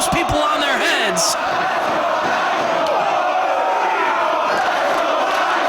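A professional wrestling crowd at a Ring of Honor event roars and cheers for both wrestlers, a loud continuous arena din with scattered shouts and whoops, while a commentator talks over it.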